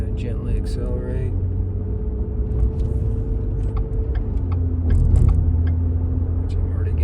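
A car gently accelerating on a road with a steady low engine rumble and drone that swells slightly midway, close and continuous, with faint clicks and rattles over it.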